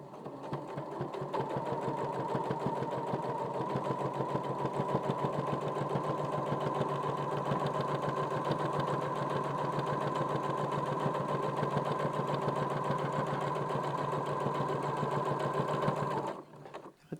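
Sewing machine quilting a small cushion cover, running in a fast, even rapid-fire stitching rhythm for about sixteen seconds before stopping, close and steady with no talk.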